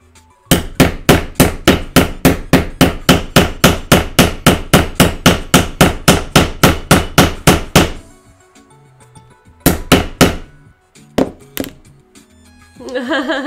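Hammer blows drive a metal punch while working on an Attack on Titan costume harness, a rapid, evenly spaced run of about thirty loud close strikes, then a pause and a few scattered knocks and handling sounds.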